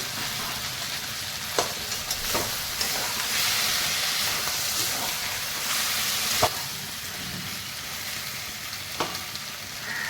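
Desi chicken curry sizzling and frying in a pan with fried potatoes, a steady broadband hiss and crackle with a few sharp stirring clicks scattered through, no talking.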